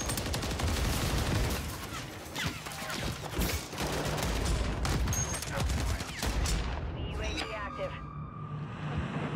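Rapid gunfire from a double-shot weapon in Call of Duty: Modern Warfare 3: loud, dense bursts of shots crack almost without pause over a busy game mix and fade into scattered echoes near the end.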